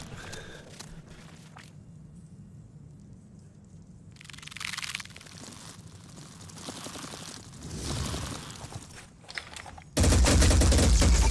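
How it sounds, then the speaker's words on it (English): Overwatch gunfire in the tactical game Phoenix Point: bursts of automatic weapon fire crackle in separate volleys, ending in a sudden, very loud sustained barrage that fills the last moments. "That is not a good Overwatch shot."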